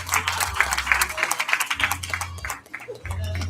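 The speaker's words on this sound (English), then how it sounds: "Let's give her a well-deserved round of applause." Indoor townhall audience clapping in a brief round, scattered individual claps audible amid a low hum, with some voices and murmur underneath.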